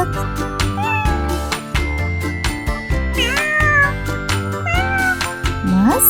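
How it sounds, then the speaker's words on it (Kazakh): A domestic cat meows repeatedly, with several clear, drawn-out, rising and falling calls close to the listener, the last one sounding more like a whining caterwaul. "Әрине, бұл мысық екен."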